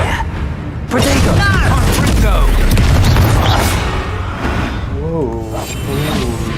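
A fiery Confringo blast in Hogwarts Legacy booms with heavy, rumbling impacts and explosive bursts, loud and close amid clashing effects, with a voice speaking over part of it.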